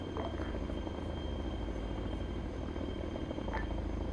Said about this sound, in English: More info will come as we mount up in the helicopter itself.